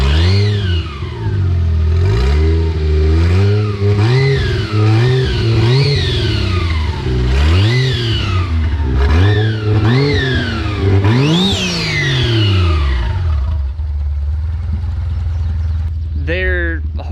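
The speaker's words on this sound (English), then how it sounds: "You can hear the turbos if I rev it." A 1JZ-GTE engine with tired turbos is revved repeatedly, each blip rising and falling in a loud, close series of swells with a faint turbo whistle riding on top, while someone talks over the early revs.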